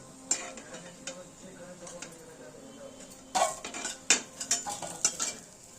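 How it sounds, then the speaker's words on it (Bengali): Fried lentil fritters for dahi vada lifted one by one from a pan of hot oil, with sharp metal spoon clinks and scrapes against the pan over a faint background sizzle, alone without talk. "এক এক করে আমরা তুলে নেব।"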